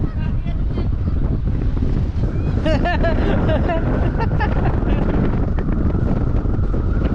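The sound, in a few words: strong wind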